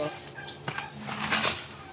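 Turkeys gobble in a noisy outdoor setting, with a few bursts of rough calling over steady background hiss.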